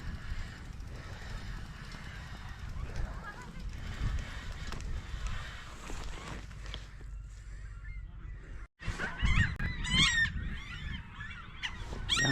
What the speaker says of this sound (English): Down here you can hear the birds.